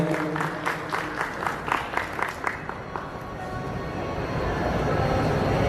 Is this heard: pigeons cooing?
no